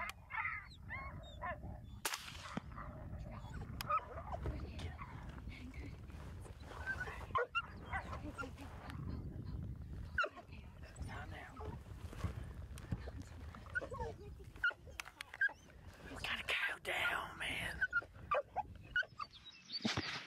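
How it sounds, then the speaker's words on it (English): A hunting dog whimpers and yelps near a herd of over a hundred cattle during a daytime coyote hunt, faint and intermittent against rustling field noise, with people talking quietly at times. "The dog's freaking out."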